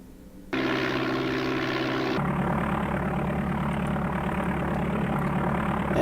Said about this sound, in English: it's an interesting way to start an engine